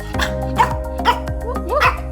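A pet dog barks and yips in short, close bursts, about four sharp calls with whiny pitch bends, while a voice talks intermittently around them.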